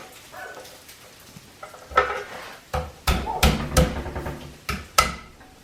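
Garlic cloves dropping into a hot pan with pork chops, bursting into sharp sizzling crackles with a few loud spits and stirs, rising after a quieter start and staying close and prominent.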